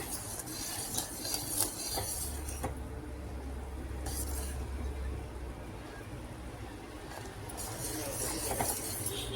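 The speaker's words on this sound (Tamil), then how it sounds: "இந்தளவு கொஞ்சம் கிண்டி விட்டுக்குங்க, இல்லைன்னா கீழே அடி பிடிச்சிரும்" Mango cooks in a pan while a spoon stirs it, producing soft scraping and occasional clinks over a low bubbling background, fairly quiet and close with a faint low hum, no one speaking.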